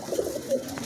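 Pigeons of a non-local fancy breed coo in a soft, low, throaty run lasting under a second, close by and alone without any talk.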